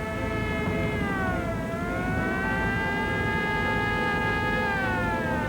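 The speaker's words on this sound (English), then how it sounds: "I heard the siren, so I figured the police were chasing him." Wailing police siren during a vehicle chase, rising and falling slowly, loud and continuous over a constant engine and road rumble.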